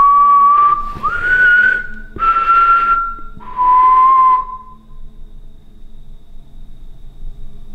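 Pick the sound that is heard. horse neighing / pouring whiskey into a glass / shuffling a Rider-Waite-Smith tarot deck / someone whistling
someone whistling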